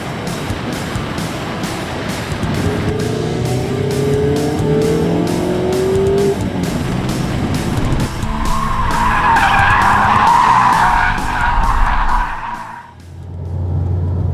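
A Mazda MX-5 RF 2.0 Homura on Bridgestone Potenza S001 tires laps a track fast, its engine droning loudly and rising in pitch, tires squealing and skidding through corners before the sound cuts off near the end.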